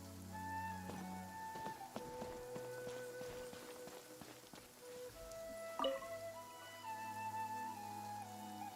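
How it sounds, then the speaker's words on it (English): Rain falls in Genshin Impact as a steady patter of drips and raindrops, laid under sustained game music tones and chimes. "Oh boy, it's raining now."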